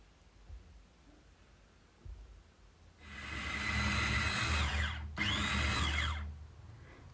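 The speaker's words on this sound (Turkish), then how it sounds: "Böyle küçük bir el blenderım var. O blenderın içinde hepsini güzelce çekiyorum." A small hand blender pureeing peppers whirs loudly and steadily for a few seconds, cuts out briefly, then runs again before stopping.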